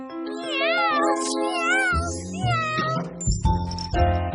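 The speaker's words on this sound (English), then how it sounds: "Now we've got 3 little kittens in the house." Cartoon kittens meow in overlapping high, wavering cries, several in quick succession and close up, with a mix of short and drawn-out calls.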